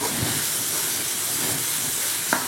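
Onions sizzle in a pan with meat juices, giving off a loud, continuous close hiss with a small clink near the end.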